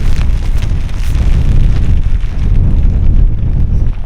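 Strong wind buffets the microphone in a loud, low, continuous rumble that surges and dips without pause.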